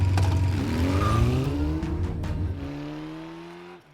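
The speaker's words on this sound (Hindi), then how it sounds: "चला, अब एक्सीलेटर दबा।" Car engine revving hard as the accelerator is pressed, a loud close roar that climbs in pitch then eases off and fades toward the end.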